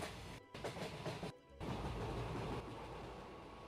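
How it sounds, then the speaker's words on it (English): Train sound effect of rolling rail cars, a steady rumbling clatter from outside the train broken by two brief dropouts, then continuing evenly at moderate loudness. "Yeah, I don't know if we're gonna find train sound effects."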